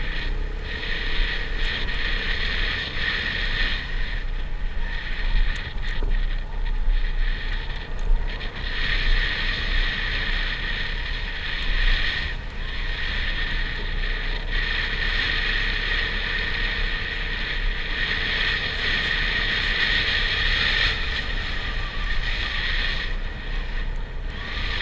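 A vehicle driving east along a hill road north of An Khe, Vietnam, with a steady, fairly loud droning rumble and wind noise running unbroken throughout and no talking.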